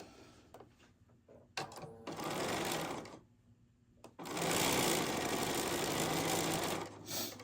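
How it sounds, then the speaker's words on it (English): Sewing machine stitching fabric along the bottom edge, short whirring runs of the needle followed by a longer, louder steady run, with quiet handling pauses between. "we're going to sew this along the bottom"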